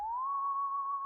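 A single synth lead note from FL Studio with reverb and no drive glides slightly upward and holds as a clean, pure tone for about a second.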